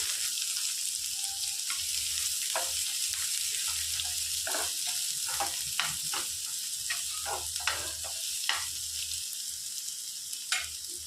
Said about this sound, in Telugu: ఇందులోనికి సన్నగా తరిగి పెట్టుకున్న ఉల్లిపాయలు వేసుకొని వేయించుకోవాలి